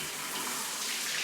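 Hot water rushes from a shower head at full pressure after plumbing work, with the gas water heater just switched on; a steady, close hiss of spray runs unbroken, with no talking.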